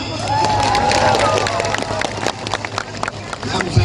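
A crowd at a large outdoor campaign rally in Lampung for vice-presidential candidate Mahfud MD breaks into applause, with scattered claps and a murmuring crowd wash filling the space, loud and continuous throughout.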